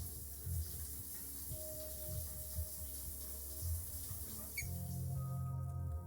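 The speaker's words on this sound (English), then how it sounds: "You turn off the faucet and dry yourself off." A faucet runs in a video game, a quiet, steady water hiss over a low ambient backdrop with a few soft thumps.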